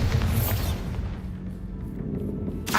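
A Bombarda blasting spell goes off in Hogwarts Legacy, a deep booming explosion that rumbles loudly at first and then decays into a lower, murky tail.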